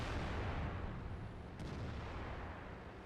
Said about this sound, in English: I'm looking for a couple more shots before we have to reload